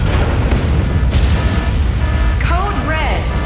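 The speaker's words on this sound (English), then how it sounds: "Explosion in the elevator's midsection, garrison's lower section disintegrating." Deep rumbling explosion from the Mecha BREAK mech combat game, sustained and heavy across the whole stretch, with a brief voice-like tone sweeping in near the end.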